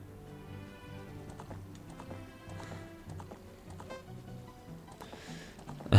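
Epona, the horse in the Nintendo 64 game Zelda: Ocarina of Time, gallops in a quick, even clip-clop of hooves that repeats steadily, with a brief whinny-like burst at the end.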